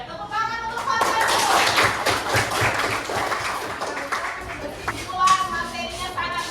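A group of children in a classroom clap their hands together in a lively burst, mixed with children's voices and chatter, the clapping fading and picking up again near the end.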